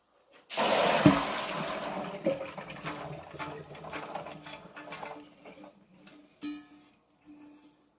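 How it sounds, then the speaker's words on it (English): Soaking water from beans poured into a strainer in a kitchen sink, a close splashing gush that starts abruptly and then trickles away over several seconds, with a brief extra splash near the end. "And I'm going to pour off this water."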